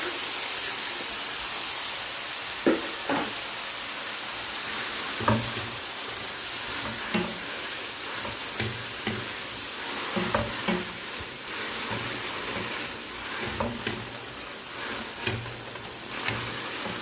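Banana heart and boiled mung beans sauté together in a pan, giving a steady loud sizzle and hiss with occasional soft stirring scrapes throughout.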